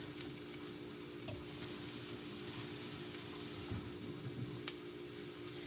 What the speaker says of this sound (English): I am going to right now add a little bit of water.